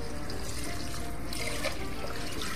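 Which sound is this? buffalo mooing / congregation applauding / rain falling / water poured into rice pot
water poured into rice pot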